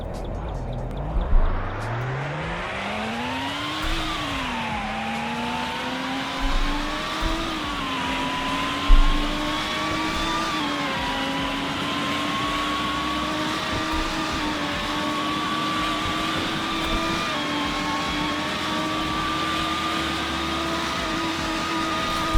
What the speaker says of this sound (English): I'm going to floor it in 3, 2, 1, go!